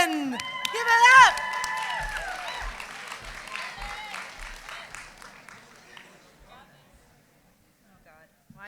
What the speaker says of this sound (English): applaud the poet. Not the score. Keep the applause going.